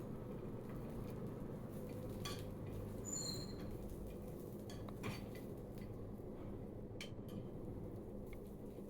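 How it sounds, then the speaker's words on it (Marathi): Faint metallic scraping and clinking of a spoon stirring roasted peanuts and ridge gourd peels in a pan, irregular strokes over a low steady background hum. "पुन्हा आपण हे दोन मिनटं परतवून घेणार आहे"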